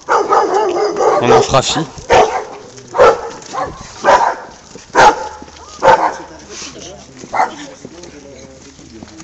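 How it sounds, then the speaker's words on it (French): Dogs unhappy about visitors bark in a steady series of sharp, loud bursts close by, while a person talks between the barks. "Un peu des chiens qui sont assez mécontents de notre visite."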